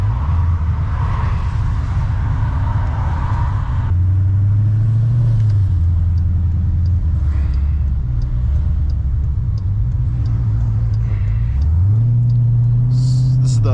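A cammed Jeep SRT with a rebuilt forged motor drives on city streets, its loud, steady engine drone rising and falling in pitch as the revs shift throughout.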